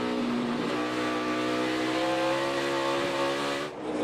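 A race car on a track spins out, its engine droning loud and steady with tyres squealing before the sound cuts off sharply near the end.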